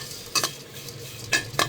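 Dried fish (kachki shutki) with thickly cut garlic frying in a pan, a soft sizzle punctuated by a few sharp spatula scrapes against the metal.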